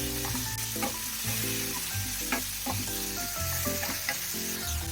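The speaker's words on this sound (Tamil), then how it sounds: "தக்காளியை ஒரு 2 நிமிஷத்துக்காக வதக்கிட்டு" Tomatoes sautéing in a pan for chicken macaroni pasta give a steady, close sizzle with repeated stirring scrapes and clinks throughout, no voices.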